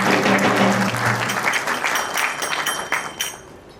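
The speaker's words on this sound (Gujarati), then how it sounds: "તો એમને આપણે ખૂબ જ તાળીઓથી વધાવીશું." Warm applause for the Tulsi Vivah sponsors at a Swaminarayan Hindu temple in Huntsville, Alabama: a dense, close burst of many hands that gradually thins and softens.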